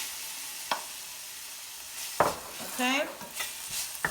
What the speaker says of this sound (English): we've got our onions and everything on medium heat cooking